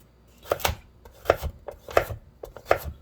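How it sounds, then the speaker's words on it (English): A knife chops through a carrot on a cutting board in a julienne-style cut. Four crisp, close strikes land about two-thirds of a second apart, each with a softer follow-up tap, and there is no talk. "take the other half of that carrot and just cut it right in half"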